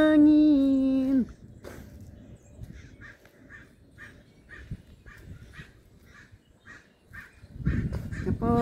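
Crows cawing outdoors on a windy, overcast day, a steady series of about a dozen harsh caws at a moderate distance, preceded by a brief loud tonal sound and followed by a rise of wind noise.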